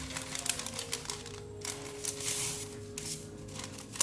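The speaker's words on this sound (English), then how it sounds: "I'll fold it again to get a square" Parchment paper being folded for lining a baking pan in a home kitchen while making carrot cake, giving soft crinkly rustles and creases in short bursts over a faint steady background hum, close and fairly quiet.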